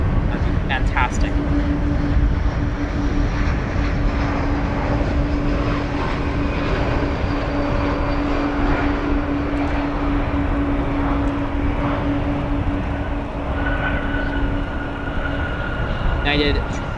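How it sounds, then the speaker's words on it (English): A United Boeing 777 from San Francisco at Chicago O'Hare gives a steady, broad engine roar with a faint sustained tone, continuous and fairly loud for the whole stretch. "You are currently looking at the 777 from San Francisco"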